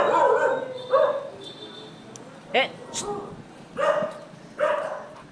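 A dog in a training session gives several short, sharp barks in separate bursts, fairly close, while a person quietly hushes it between barks.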